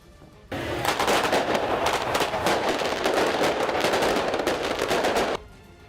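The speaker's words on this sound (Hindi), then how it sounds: "उन्होंने सरये के जन्मदिन की खुशी में जमकर पटाखे फोड़े।" A crowd gathered outside a president's office sets off firecrackers in a birthday celebration, producing a loud, dense, continuous barrage of sharp crackling bangs that starts abruptly and runs for about five seconds before stopping.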